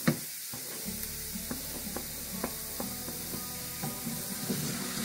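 Tomatoes tipped into a pan of sizzling ginger garlic paste for restaurant-style butter chicken, a steady close frying sizzle with light stirring clicks and scrapes and a brief louder burst at the start.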